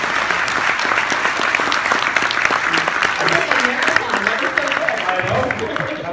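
An audience applauds a film producer at a TiECon Canada 2016 talk, dense sustained clapping from a large crowd with some speech starting up near the end.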